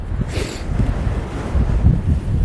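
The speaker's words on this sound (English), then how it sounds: "Windy up here." Strong wind on Rattlesnake Mountain buffets the microphone with a constant roaring rumble and gusty swells, no voices present.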